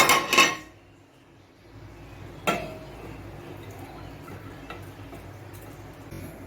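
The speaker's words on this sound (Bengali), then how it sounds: "আর এই ভাত বসাবো এখন জল দেওয়া আছে" A metal pot with water set down on a stove for cooking rice, a sharp clatter of metal at the start and another knock a couple of seconds later, followed by quiet kitchen background.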